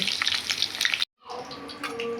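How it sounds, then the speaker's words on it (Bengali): Potatoes for a Bengali mutton curry fry in oil, a loud crackling sizzle close by that breaks off into a brief silence before a gentler, steadier frying sound resumes. "প্রথমে আলুটাকে ভেজে নিচ্ছি ভালো করে, একটু করে"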